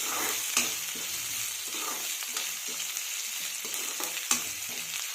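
Onion paratha filling frying and being stirred in a pan, with a steady soft sizzle and occasional scrapes and clicks of the spatula against the pan.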